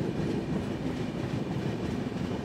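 Steady rumbling roar of the Kamakhya Puri Express running, heard from on board a carriage, with faint rhythmic rail clatter underneath, continuous and close.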